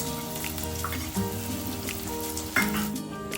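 Tomatoes and onions frying together in a pan for an aloo chaat: a steady crackling sizzle over a faint, constant humming tone, with a couple of slightly louder pops.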